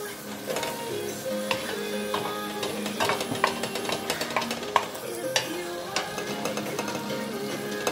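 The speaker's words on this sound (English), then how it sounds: "I'm sauteing the mushrooms" Mushrooms sauté in a pan for a sweet and sour pork stir fry, giving a quiet sizzle under busy clicking and tapping from a utensil stirring and scraping the pan, near and with no talk.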